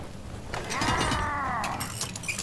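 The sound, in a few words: resupply pod mechanism in Deep Rock Galactic video game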